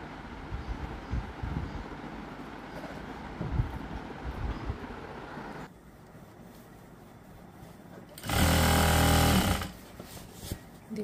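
A sewing machine stitches lehenga fabric, with busy rattling motor noise at first, then a quieter stretch, followed by a loud, steady burst of fast stitching near the end, and no speech.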